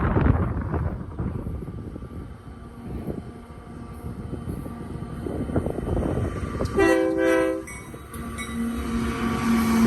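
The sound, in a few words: Union Pacific freight train with SD70 locomotives passing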